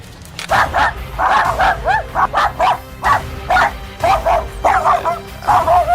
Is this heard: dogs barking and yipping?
yes